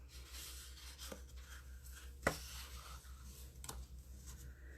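Blackberry Bliss cardstock cut to 4 1/4 by 11 being folded in half and creased, soft close rubbing and scraping with one sharp crack midway, quiet and without talk.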